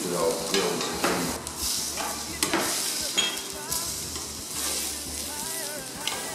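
Zucchini slices sizzle steadily in a hot pan, a close, continuous frying hiss broken by scrapes and stirring clatter, with no talk.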